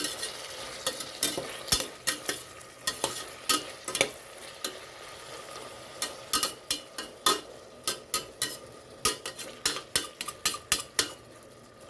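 Tomatoes and onions sauté in a pan under a soft, low sizzle, with a spoon scraping and knocking against the pan in quick, irregular strokes. No one speaks.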